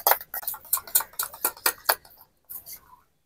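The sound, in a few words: whisking sour yogurt (curd) for chicken curry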